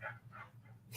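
Dogs whimper and yelp in the background of a room, with faint, high, drawn-out whines in short bursts over a low steady hum and a sharper yip at the end.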